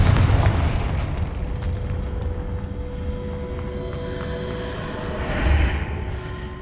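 A Confringo spell explosion in the video game Hogwarts Legacy: a loud booming blast right at the start that fades into a rumbling tail, followed later by a second smaller burst.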